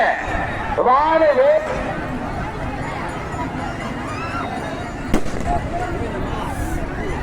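Fireworks go off at a village temple consecration festival, heard as scattered pops and one sharp bang beneath steady crowd chatter and voices nearby.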